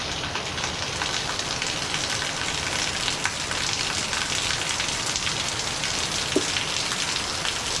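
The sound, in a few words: heavy rain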